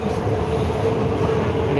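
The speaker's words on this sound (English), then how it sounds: "The train to Admiralty, our train, I'm on train car number 82." A Hong Kong MTR East Rail Line train runs toward Admiralty, heard from inside a car as a loud, steady rumble and rolling roar with a faint tonal whine, continuous throughout.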